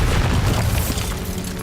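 Bombarda blasting spell explosion in Hogwarts Legacy, a loud, dense booming blast that fills the whole clip and slowly decays, with no talking.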